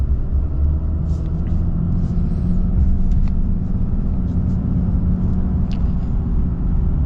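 2024 Ram Rebel HD pickup truck accelerating, a steady deep engine and road rumble heard from inside the cab, with light faint clicks and squeaks on top and no talk.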